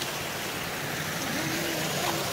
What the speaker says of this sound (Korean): 요렇게 시냇물이.